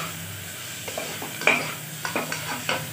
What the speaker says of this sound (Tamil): இஞ்சி பூண்டு பேஸ்ட் போட்டு பச்சை வாசனை போக வதங்கட்டும்.